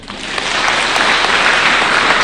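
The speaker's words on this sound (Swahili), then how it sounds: "wapigieni makofi" A crowd at a church gathering in Gatunduri, Kenya, claps loudly during President Ruto's speech, a dense, steady wash of applause swelling quickly and holding.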